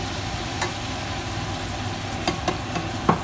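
Yogurt fries in oil with chicken for a korma, giving a quiet, steady sizzle with a few faint scrapes of a spoon against the pan.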